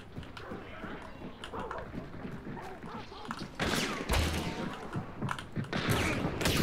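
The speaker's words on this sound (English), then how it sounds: "This sounds like a Wild West gunfight." Rapid volley of gunshots in a cavalry saber combat video game, loud bursts crackling amid horse hoof clip-clop and battle noise, with voices talking over the chaotic scene.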